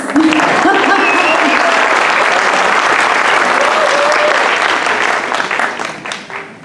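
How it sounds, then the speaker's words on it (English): Audience applause at the Mehregan 2023 opening ceremony, a Persian cultural celebration: dense, loud, sustained clapping from a large crowd that holds steady for several seconds, then thins and fades toward the end. "Give it an applause."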